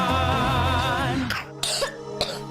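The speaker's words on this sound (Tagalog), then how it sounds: "Ubo ng anak? Nakababahala? Baka plema." A child coughs in a Philippine radio advertisement for a lagundi-based children's cough syrup: after a short musical tone bed, about three sharp, close coughs or throat-clearing bursts stand alone.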